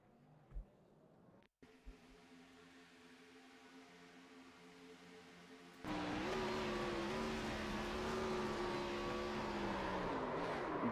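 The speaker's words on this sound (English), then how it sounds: "you can hear those revs kind of hit the limiter there, and trying to downshift really quickly" In the iRacing simulator, an Xfinity Series race car at Daytona drones quietly at first, then roars louder as revs climb and bounce against the limiter before quick downshifts, heard from onboard.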